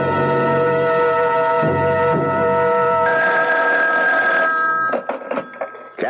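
An old-fashioned telephone bell rings loudly and continuously for several seconds as a radio drama sound effect, then cuts off into brief scattered clatter.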